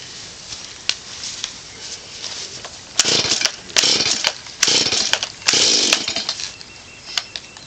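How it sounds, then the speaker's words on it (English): A chainsaw in a workshop revs in repeated loud bursts over a lower idling drone, the engine surging and dropping several times with no talk. "I'll turn that down while I'm got the chainsaw going."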